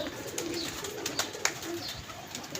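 Pigeons cooing at a pigeon club, several soft throaty coos repeating close by, with faint clicks and rustles between them.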